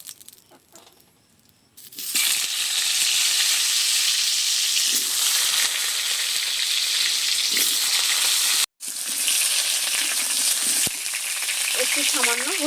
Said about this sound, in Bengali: কড়াইতে সর্ষের তেল দিয়ে দেবো